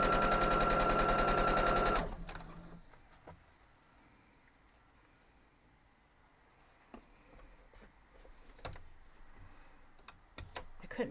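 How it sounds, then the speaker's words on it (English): A sewing machine stitches quilt block pieces in a fast, loud, even mechanical rattle for about two seconds, then stops, leaving light handling clicks and fabric rustles. "And I'll sew this, and then I'll grab this one and sew it."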